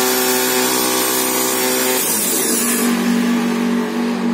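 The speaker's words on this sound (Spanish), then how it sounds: "Aquí tenemos la marcha trabajando." A Chevrolet starter motor, shown with its Bendix drive, armature and field coils, spins on a test bench with a loud, continuous whine that shifts in pitch partway through, with no talking.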